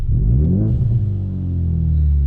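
Ford Mustang EcoBoost with an MBRP race catback exhaust, running catless, revs loudly up close, its deep engine note climbing and falling in a steady, continuous rumble with no talking.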